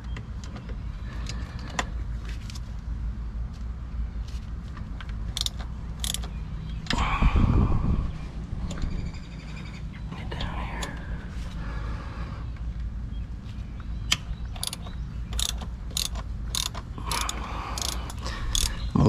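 Ratchet wrench clicking while lower engine bolts on a 1998–2011 Ford Crown Victoria are loosened, with bursts of metallic ratcheting, clanks and tool handling throughout, close up and without talk.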